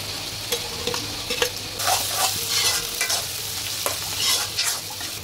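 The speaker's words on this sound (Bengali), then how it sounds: "এই যে পেঁয়াজটা আর রসুনটা ভাজা ভাজা হয়ে গেছে, এখন দিয়ে দিব পটলটা" Pointed gourd frying in a pan with fried onion and garlic, a steady close sizzle with bursts of stirring scrapes and louder hissing surges, no talking.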